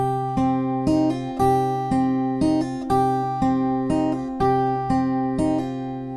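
A fingerstyle guitar plays a theme intro: clear plucked notes in a steady repeating pattern, each phrase ringing and decaying before the next, close and alone.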